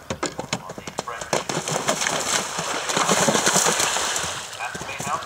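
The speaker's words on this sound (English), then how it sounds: "Here is Julie Wentworth, starting across country with good night." Horse galloping cross country at a three-star eventing competition, hoofbeats thudding rhythmically and picking up pace, heard outdoors under steady wind and crowd or commentator noise.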